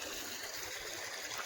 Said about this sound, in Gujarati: અને આ બાજુ તો કે પાણી હાલે છે ભાઈ, દેડકાનું પાણી.